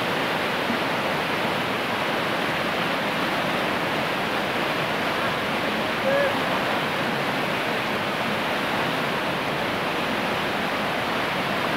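Rushing floodwater pours in a steady, loud, broadband roar that never lets up, with no voices over the torrent.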